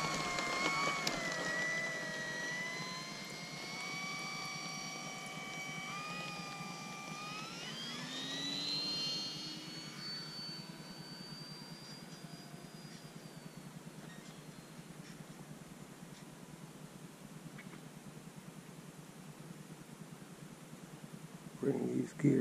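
An FMS P-40B Tomahawk RC model plane flies over the field on a sunny day, its electric motor whining and rising in pitch as it passes, then fading to a faint distant hum.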